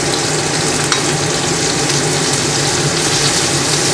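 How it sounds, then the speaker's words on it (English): A T-bone steak frying in a pan with melting butter gives a loud, dense, continuous sizzle, close and steady throughout with no pauses. "I'm going to quickly just dab a little half of butter."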